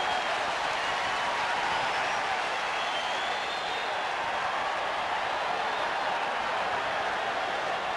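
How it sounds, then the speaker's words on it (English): A capacity crowd at Dodger Stadium applauds and cheers during Game 1 of the 1988 World Series between the A's and Dodgers. A dense, continuous wash of clapping and crowd noise runs evenly throughout. "Big crowd, capacity crowd at Dodger Stadium"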